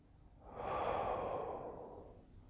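One slow, steady breath during a beginner tai chi form swells smoothly, holds, and then fades away, soft and close.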